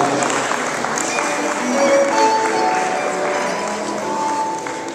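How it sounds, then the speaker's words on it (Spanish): Sustained crowd applause with steady clapping, fairly loud, blended with cheering and a voice over the top. "Ella es Amanda Trujillo, fuerte el aplauso."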